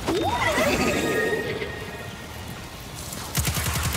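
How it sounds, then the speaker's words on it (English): The Super Temporal Horse in the video game Destiny 2's Dares of Eternity lets out a loud, wavering neigh, followed by quieter sounds and a quick burst of clattering beats at the end. "The Super Temporal Horse and I will perceive you next time on Dares of Eternity."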